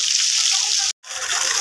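Water pouring and gushing steadily at a Radha Krishna temple, loud and close, with a sudden brief cutoff midway before the flow resumes.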